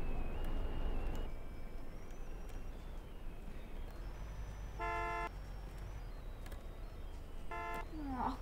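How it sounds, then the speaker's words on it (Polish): Vehicle horns honk in a Roblox driving game, two short stacked-tone blasts sounding in the middle and near the end over steady engine and traffic noise, with a new semi truck parked nearby. "Kurde, trąbią."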